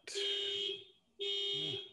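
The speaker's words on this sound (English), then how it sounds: "Hold on. Car alarm going off." A loud electronic alarm blares in two long tonal bursts separated by a short gap, harsh and steady, with a faint voice underneath.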